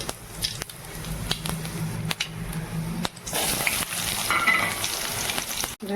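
Spices tempering in hot oil in a deep kadai for Tamil-style mutton curry, a steady close sizzle and crackle that swells louder and brighter partway through, with no one talking.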